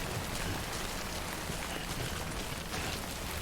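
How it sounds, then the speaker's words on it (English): Heavy rain in the video game Death Stranding pours down in a steady, broadband hiss, constant and enveloping, with no voices or other sounds. "We got bad rain now."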